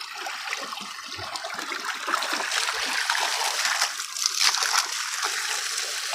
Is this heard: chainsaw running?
no